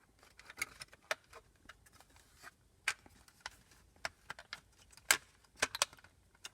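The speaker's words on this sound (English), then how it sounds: "Once it's lined up, it snaps in place." Plastic clicks and light taps as a factory rear vent is lined up and snapped into place in a Tesla Model 3/Y rear controls screen unit; scattered sharp, close clicks of varying loudness, with no talking.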